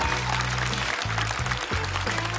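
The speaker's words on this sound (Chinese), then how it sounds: "掌声送给" A stand-up comedy audience claps in a dense, steady burst of applause that fills the room, with a low sustained hum beneath.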